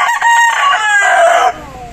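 Inside a small chicken coop, a rooster crows loudly and close by in one long, wavering call that cuts off abruptly, with hens faintly clucking underneath.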